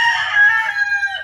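A single rooster crow rings out close by, a loud, drawn-out call that holds its pitch before trailing off, with faint low background noise beneath.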